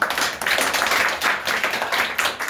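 A classroom of students claps together, brisk rhythmic handclapping that carries on steadily throughout.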